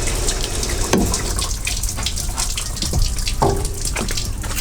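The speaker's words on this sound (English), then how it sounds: "I'll run the water so you guys can see that real quick." Water running steadily through a leaking firewall seal into a car's footwell, a continuous splashing trickle with occasional drips, close and fairly loud with no talking.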